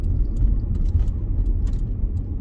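A 2003 Honda CR-V EX AWD on the move, heard as a steady, close, low road and engine rumble that fills the cabin without pause and with no talking.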